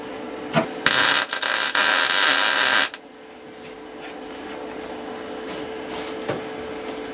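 Welding on rusted body panels of a classic Holden car gives a loud, steady crackling buzz for about two seconds, then stops, leaving a quiet background hum.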